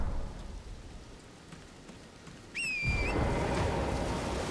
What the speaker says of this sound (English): It's just raining. I honestly love the weather effects in this game.